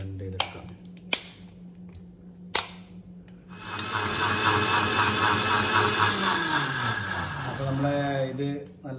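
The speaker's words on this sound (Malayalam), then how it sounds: "നന്നായിട്ട് ഒന്ന് ബ്ലെൻഡ് ചെയ്തെടുക്കാം" After a few sharp clicks, a kitchen mixie blends kiwi with sugar into juice, its motor whirring loudly and steadily for several seconds before the pitch sinks as it winds down.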